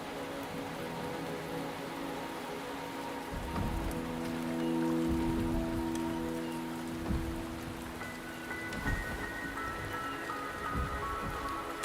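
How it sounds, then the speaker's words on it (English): Steady rain pattering on surfaces in the video game Wuthering Waves, a continuous hiss of drops with low ambient tones underneath, moderately quiet and heard alone without talk. "The rain is subsiding, and the sky will soon clear."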